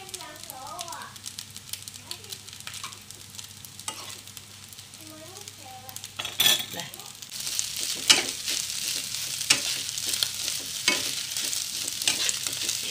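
Korean fried rice sizzles and crackles loudly in a hot pan while a spatula scrapes and stirs, with someone talking at the start.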